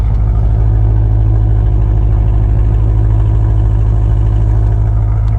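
A BMW E92 M3 fitted with a new exhaust idles steadily, a loud, close, deep and even burble with a constant low rumble throughout and no talk.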